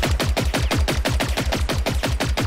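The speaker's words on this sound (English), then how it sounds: "he's just walking around the house and shooting into it." Rapid automatic gunfire from a weapon in the video game Generation Zero, a dense, steady burst of evenly spaced shots running loud and continuous throughout, with no talk.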